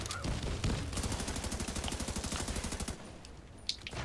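Rapid automatic gunfire in The Division 2 rattles off in a fast, steady burst of evenly spaced shots for about three seconds, then cuts off, leaving a quieter tail with a single sharp report near the end.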